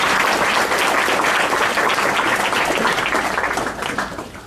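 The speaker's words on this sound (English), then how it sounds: "let's give a big round of applause to all the participants and everyone here" Applause from an audience at a university research symposium keynote, a dense steady wash of many hands clapping, loud and close, fading slightly toward the end.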